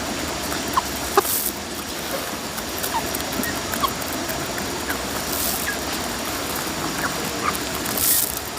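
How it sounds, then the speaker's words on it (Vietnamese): Chickens from a small backyard flock of six cluck and call sporadically over a steady outdoor hiss, with a few sharper squawks standing out near and far. "Bây giờ cũng chỉ còn 6 con gà này thôi."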